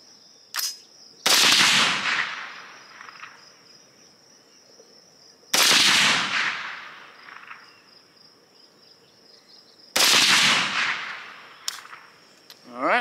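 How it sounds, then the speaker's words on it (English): Three loud, sharp unsuppressed rifle shots of 300 Blackout 150-grain supersonic ammunition ring out several seconds apart outdoors, each with a decaying echo, while crickets chirp steadily in the background. "let's shoot some 300 blackout 150 grain supersonics"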